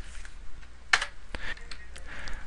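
Quick bursts of keystrokes on a computer keyboard as a shell command is entered, close and crisp, with a few separate clicks spaced over a couple of seconds in a quiet room.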